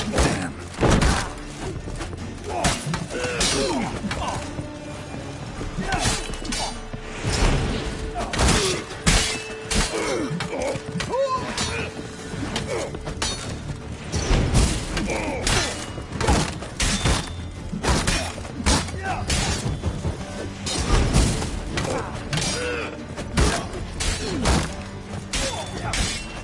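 Loud, booming crashes and shattering bursts from explosions in a Witcher-style medieval fantasy video game, repeating in dense, uneven clusters across the whole stretch with little pause between impacts.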